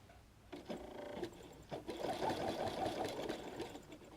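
Sewing machine running a straight stitch at 2.5 length with an open toe foot and center needle, quiet close-up bursts of rapid mechanical whirring separated by brief pauses.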